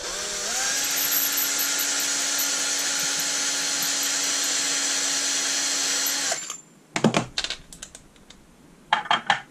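A brass case trimmer grinds while reloading ammunition, a loud steady whirring for about six seconds that then cuts off, followed by a few short clicks and handling clatters.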